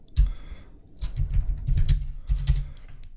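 Rapid bursts of typing on a computer keyboard, clustered clicks in several quick runs across a few seconds, fairly close and clear with no talk over them.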